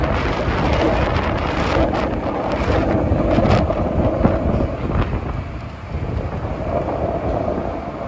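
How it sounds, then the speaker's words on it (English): Strong wind roars steadily on Manhattan Bridge at night, a broad, loud, unbroken rush with gusty swells and rumbling traffic-like noise underneath, no voices. "windy out tonight."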